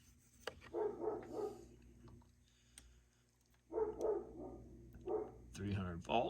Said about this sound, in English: Oh, there's those crazy dogs.